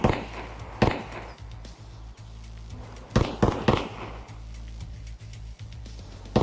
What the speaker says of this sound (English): he'll let you know when he's about to lock onto you with warning shots